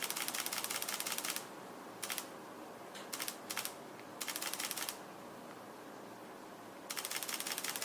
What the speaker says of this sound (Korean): 이렇게 누르면 누르는 상태에서 연사가 그대로 되는